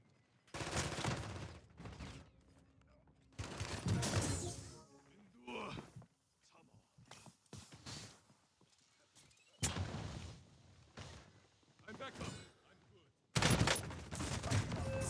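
Gunfire in Warzone comes in repeated loud bursts and volleys, separated by quieter gaps with shuffling game sounds, with a voice speaking at times.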